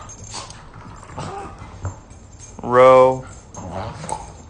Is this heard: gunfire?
no